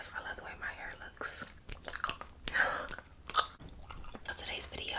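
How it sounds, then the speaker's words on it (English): Gum chewing happens right at the microphone, with a steady run of close, moist chews and soft clicks. Unintelligible whispering is mixed in throughout. "I'm gonna be chewing some gum."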